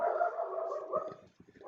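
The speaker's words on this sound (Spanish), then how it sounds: "no lo salva Pipi, lo salva la perrita que quiere salir a hacer pis" A small female dog whines and whimpers, wanting to go outside to pee, a sustained nasal cry followed by a few short broken whimpers, fairly close and alone.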